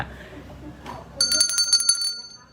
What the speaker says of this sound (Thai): นี่ไงสั่งกระดิ่งด้วยโห